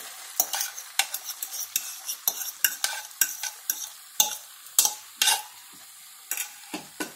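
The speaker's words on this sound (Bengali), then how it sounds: "আলুটার সঙ্গে মশলাটা ভালোভাবে আমি মাখাবো, মিশিয়ে নিচ্ছি" Potatoes with spices stirred in a frying pan for aloo curry, a rapid series of close scraping and clattering strokes over a light sizzle, with no talking.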